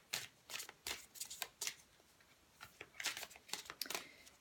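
Oracle cards are shuffled in quick repeated riffles and slides, a soft papery crackle that comes in bursts with short pauses, fairly close and alone.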